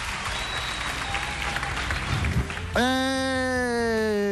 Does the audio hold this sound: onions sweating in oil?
no